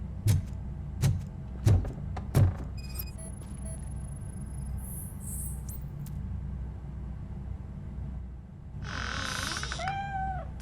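A cat in Robocop: Rogue City lets out a short, bright meow near the end, following a series of soft thuds and a few thin electronic tones over a low game hum.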